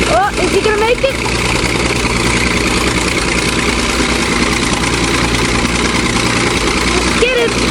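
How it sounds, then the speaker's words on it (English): A bulldozer engine labours hard while pushing up a steep hill until the clutch gives out, a loud, heavy, continuous low rumble close by, with faint squeaks and creaks at the start and end. "This operator pushes hard up a steep hill, again and again, until the clutch gives out."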